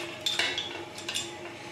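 A utensil stirs and mixes ingredients in a metal pan, giving a few light clinks and scrapes against a soft background sizzle, with no talking.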